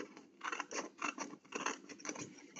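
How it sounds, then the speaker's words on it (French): Scissors cutting through paper cards, a close, quiet series of snipping and slicing strokes in a fairly steady rhythm with no talking. "Tant pis, je vais couper ça comme ça."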